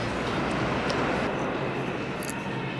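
A train station fills the space with a steady, dense wash of rumbling noise that stays loud and unbroken throughout, with no voices heard.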